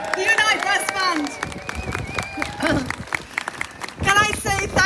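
A crowd at an outdoor climate change rally cheers and applauds for a brass band, bursts of clapping and shouting swelling and fading, with voices calling out over the noise.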